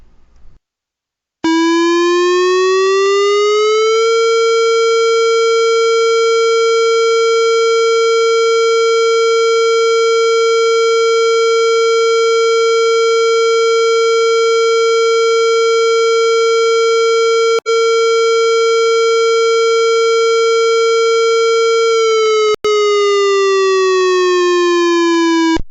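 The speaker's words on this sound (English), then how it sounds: "The next slide will display our severe weather alarm." A severe weather alarm siren at the Bunge plant in Morristown, Indiana, rises into a loud, steady alert tone, holds it unbroken for about twenty seconds, then winds down, sounding alone.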